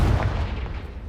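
A Confringo fire-blast spell cast in Hogwarts Legacy on PS5 lands as a loud, booming burst with a heavy low rumble that rolls on and slowly fades, with no voices.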